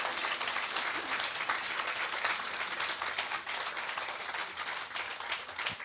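A live sports talk audience breaks into sustained, dense applause, many hands clapping steadily and loudly throughout with no voices standing out.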